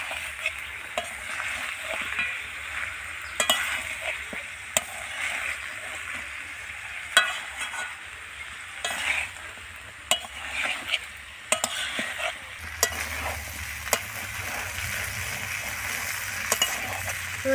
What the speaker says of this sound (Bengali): এবারে এটাকে ভালোভাবে মশলাগুলোর সঙ্গে কষিয়ে নিতে হবে।